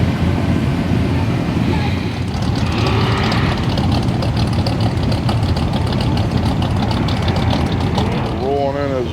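A 1959 Chevy wagon rolls in at Famoso Dragstrip in Bakersfield during a hot rod reunion, its engine a low, continuous rumble mixed with heavy wind buffeting, ending in a short rising whine.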